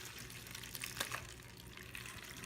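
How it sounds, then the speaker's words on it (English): Water poured into a bowl over wood chunks for smoking pulled pork, a faint continuous splashing gush with a brief louder splash partway through, no talking. "and then pour the water"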